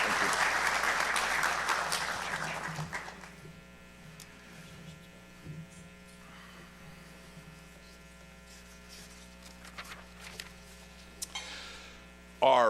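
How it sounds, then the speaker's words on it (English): Brief applause at a county fire department awards ceremony dies away after about three seconds, leaving a steady electrical hum with a few scattered claps and faint room noise before a voice returns. "Keith, with that, I applaud you."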